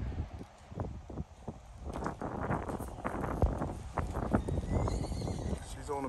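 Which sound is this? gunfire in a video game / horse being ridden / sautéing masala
horse being ridden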